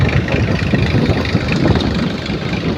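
A loud tractor engine rumbling steadily up close, a low chugging drone that holds constant throughout with no voices.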